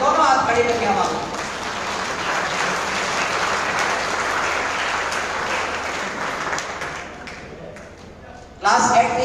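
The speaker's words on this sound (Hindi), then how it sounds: "एक बार जोरदार तालियां, दोनों हाथ हवा में लगा के" Audience applause at a school award ceremony for students, dense sustained clapping from a large crowd that swells and gradually fades, with a voice cutting in at the end.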